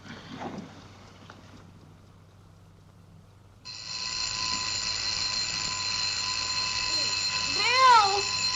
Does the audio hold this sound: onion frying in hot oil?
no